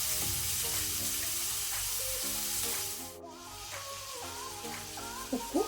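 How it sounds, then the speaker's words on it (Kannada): Onion frying in cooking oil, a steady close sizzle under clinking, tonal scraping and stirring sounds, easing slightly partway through before a few sharper knocks at the end. "ಆನಿಯನ್ ಸ್ವಲ್ಪ ಕಲರ್ ಚೇಂಜ್ ಆಗೋ ತನಕ ಫ್ರೈ ಮಾಡ್ಕೊಳ್ಳೋಣ."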